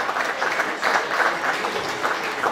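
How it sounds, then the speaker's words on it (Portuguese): Audience applause at a Sporting Clube de Portugal supporters' club gathering, a close, steady round of clapping from a group with slightly pulsing intensity and no voices. "pedia que a todos realmente usassem uma boa salva de palmas a esta iniciativa"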